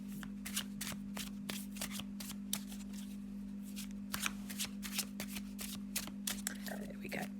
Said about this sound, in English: I have a little shuffle of these Everyday Witch Tarot.